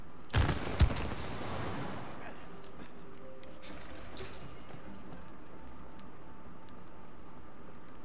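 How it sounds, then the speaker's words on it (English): Gunfire blasting goo in the co-op video game It Takes Two: a couple of sharp, loud shots up front, then a steady low rumble of game noise for the rest of the stretch. "Shoot the goo off."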